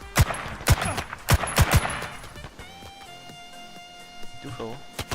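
Rapid bursts of gunfire in the battle-royale game H1Z1, sharp cracking shots clustered in the first two seconds and a few more near the end, loud and close, with a player talking over the action.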